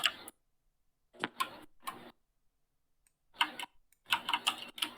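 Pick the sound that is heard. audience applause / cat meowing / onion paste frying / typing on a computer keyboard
typing on a computer keyboard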